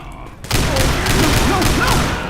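Video game gunfire hitting the player, a sudden burst of loud rapid shots and impacts starting abruptly after a quiet moment and continuing steadily to the end.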